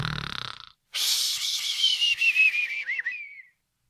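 A man imitates snoring, a long wheezy whistling inhale that rises and wavers, loud and close, ending abruptly after a short burst of voice.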